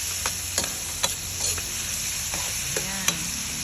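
Tomatoes stirred in a large Salad Master casserole pan, a spoon scraping and knocking in several separate strokes over a steady low hiss of cooking, close and fairly loud, with no talking.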